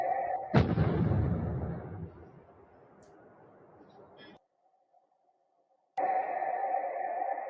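A sniper shot fired in Gaza, a single loud sharp crack up close followed by a long fading rumble, then a steady electronic tone and a sudden return of hiss.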